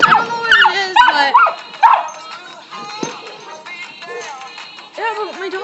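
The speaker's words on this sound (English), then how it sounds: "my dog's like barking at someone" A dog barks, yips and whimpers in close, loud bursts, with pitched whining cries rising and falling between the barks, indoors during a game.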